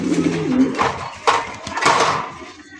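Pigeons for sale coo softly in a low, rolling call at the start, followed by scattered handling knocks and rustles nearby.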